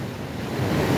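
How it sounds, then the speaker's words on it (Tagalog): Storm surge waves surging over Tagas Boulevard and onto the highway in San Jose, Camarines Sur, Bicol: a dense, continuous roar of surf and water with wind buffeting the microphone, swelling slightly louder toward the end. "pumapasok na sa highway ang tubig dito sa Bicol"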